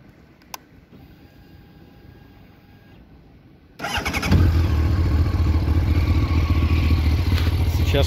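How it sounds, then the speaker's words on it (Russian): After a quiet stretch with a faint electronic whine, a 2000 Honda CBR1100XX sport motorcycle engine cranks and catches, then idles loudly with a steady, rough rumble. "давайте его заведем и послушаем, как он звучит."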